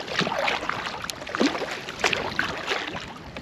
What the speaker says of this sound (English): How hard this wind is blowing.